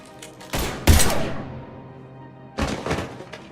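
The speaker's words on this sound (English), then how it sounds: "Now open fire!" Gunfire in the video game Mass Effect 3, with two close, heavy bursts of shots and thumping impacts separated by a short lull.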